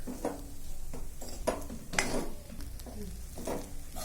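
Poha and green peas (chiwda matar) are stirred in a pan, the spoon scraping and clinking against the metal in a few distinct strokes about half a second apart, over a faint sizzle. The sound is moderately close and not loud.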